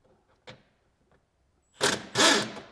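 Two short bursts of an impact wrench working on the bolts of a plastic bumper, loud and close, after a few faint clicks and taps in an otherwise quiet space.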